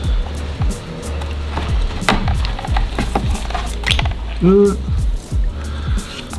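A rubber hose is worked off a carburettor on a 1.9 petrol engine of a T3 Doka van, giving close creaks, rattling clicks and scrapes of metal and rubber in an uneven series, with a brief squeak near the end.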